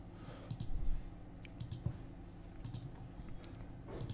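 A computer mouse is clicked on a Windows PC, with several quick, light, close clicks in pairs and scattered taps over a quiet room hum.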